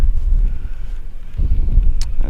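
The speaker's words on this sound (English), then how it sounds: "It's getting kind of windy out today." Steady wind buffeting the microphone on open water during a bass fishing trip in Wisconsin, a low, constant rumble with faint rustling and a few light knocks near the end.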